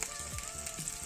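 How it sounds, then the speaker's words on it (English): Garden-ingredient food sizzles steadily in a frying pan, a continuous close crackle with faint low knocks of stirring, no voices. "Now, I'm gonna keep frying this."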